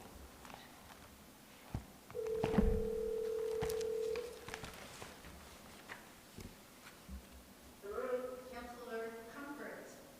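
A telephone tone sounds during a town council meeting held over the phone while a call is being reconnected. One steady tone lasts about two seconds and a burst of short beeps comes later, all faint under background noise and some talk.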